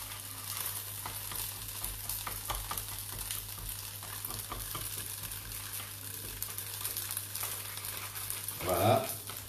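Tofu fries in a wok with a steady close sizzle while a utensil stirs and scrapes, and a brief louder clatter comes near the end.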